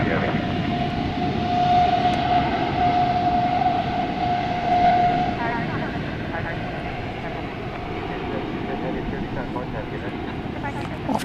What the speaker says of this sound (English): The Qantas jet is now cleared for takeoff.